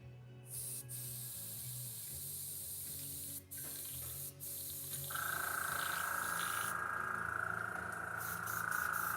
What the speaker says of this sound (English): I'm just cleaning out my airbrush